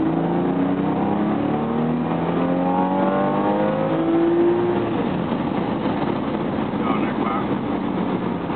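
A powerful car engine of roughly 400 horsepower revs up, its pitch climbing in repeated rising sweeps, loud and close over steady road and wind noise.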